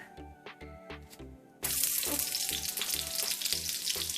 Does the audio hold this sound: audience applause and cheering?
no